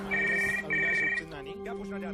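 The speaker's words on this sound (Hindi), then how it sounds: "टीवी देखने लगी जब घर का लैंडलाइन बजा।" A home landline telephone rings in two electronic bursts over a low room hum, and a voice starts speaking right after the second ring.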